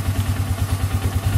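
Polaris Ranger Crew 500 utility vehicle engine idling at about 1,000 rpm, a steady low chugging pulse with an even, regular beat, close and alone.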